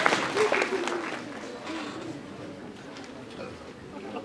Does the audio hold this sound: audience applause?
yes